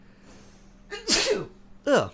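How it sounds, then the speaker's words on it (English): A loud human sneeze bursts out close by, followed by a second, shorter sneeze about a second later, with a faint muttered word before them. "Big sneeze again."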